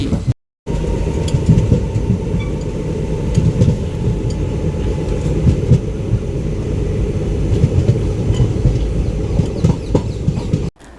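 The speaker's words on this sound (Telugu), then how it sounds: "ఇప్పుడే మనా ట్రైన్ భీమవరం జంక్షన్ రైల్వే స్టేషన్లోకి వస్తోంది" Special train No 07219 on its inaugural Narasapuram to Arunachalam run rolls into Bhimavaram Junction station with a steady, close rumble and faint clatter that runs almost unbroken after a brief opening gap.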